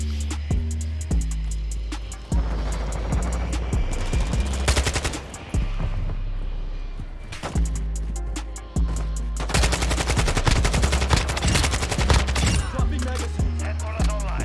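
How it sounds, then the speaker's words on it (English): Rapid automatic bursts from a KASTOV-74u rifle in a Modern Warfare video game, fired up at a VTOL aircraft, loud and close, with short pauses between the volleys. "I'm trying to shoot my VTOL down."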